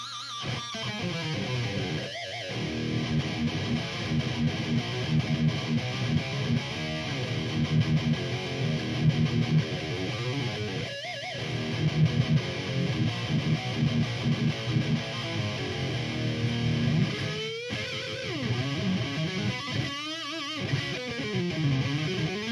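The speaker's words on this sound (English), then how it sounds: "let me throw this super overdrive on the amp with the effects loop" An electric guitar plays through a Crate Blue Voodoo 120H amp with a super overdrive pedal in the effects loop, giving steady, moderately loud distorted riffs with sustained notes and chord stabs and no talking.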